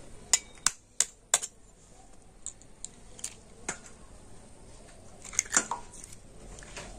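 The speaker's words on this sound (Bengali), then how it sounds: "এখন আমি ডিমগুলো ফাটিয়ে নেব" Eggs cracked one after another against the edge of a large plate, several sharp close taps in quick succession followed by softer scattered clicks and handling noises in a quiet room.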